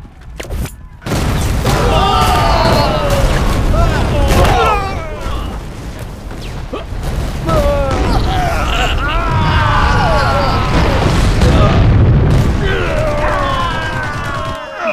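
Loud, continuous barrage of booming explosions and rapid gunfire with crashing debris in a Hindi-dubbed action movie battle scene, dense and chaotic throughout, with shouted voices mixed in.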